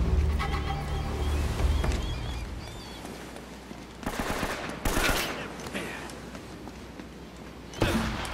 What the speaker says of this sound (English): There's guys shooting at me now.